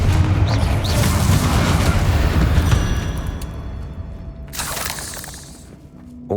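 An explosive Confringo spell in Hogwarts Legacy, a loud crackling blast that shatters and rumbles, decaying over a few seconds before a fainter second burst of crackle.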